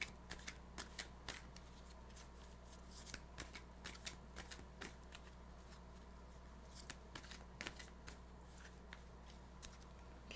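Tarot cards being shuffled nearby during a card reading, a steady run of soft riffling, slapping card sounds with sharper flicks scattered throughout, over a faint constant hum, with no talking.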